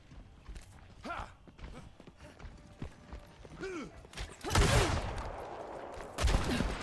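Gunfire from the Overwatch video game, including coach gun shots during a high school esports match: sharp bursts of shots stand out near the end amid clatter and game effects, with faint talk underneath.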